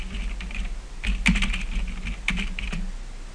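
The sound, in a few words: typing text on a computer keyboard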